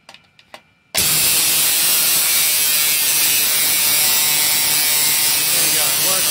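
A ZVS solid-state Tesla coil kit switches on at maximum current and voltage after a few faint clicks, jumping to a loud, continuous buzzing roar that holds steady at full strength to the end.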